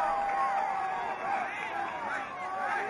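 Spectators at a boys' high school soccer championship, Bacon Academy against Suffield, murmur and call out in a steady, moderately loud hubbub, with individual voices rising above the crowd noise.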